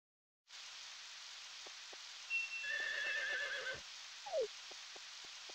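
A horse whinnies in a video game over a steady rain-like hiss, with a few soft hoof clops and clicks after the call.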